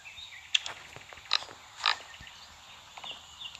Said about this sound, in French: Je sais pas si on égorge le cochon ou pas.